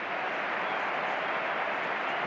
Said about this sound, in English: Again, generous applause for Sergio Roberto